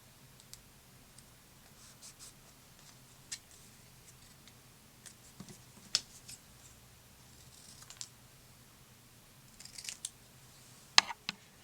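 Scissors cutting paper card, a quiet close series of short crisp snips spaced irregularly, with light rustling between cuts and no speech.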